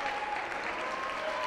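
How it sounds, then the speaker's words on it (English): A crowd claps steadily in a gym as a player leaves the court during a high school boys basketball game, a continuous wash of applause with a few whistle-like tones. "He gets a nice applause as he runs off the court,"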